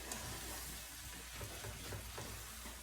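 Riced cauliflower fries in butter, olive oil and garlic in a pan, giving a steady, close sizzle with faint stirring scrapes and no talk.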